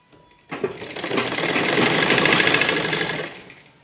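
A sewing machine runs one continuous stitching burst along a salwar side seam, starting abruptly, whirring steadily and loudly at close range, then tapering off.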